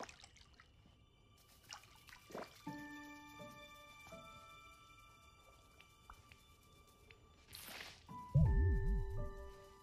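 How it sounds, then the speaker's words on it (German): Watering plants in the Disney Dreamlight Valley video game gives soft, faint splashing and trickling among game chimes and music tones, swelling into a louder watery burst near the end. "Dann gieße ich erstmal."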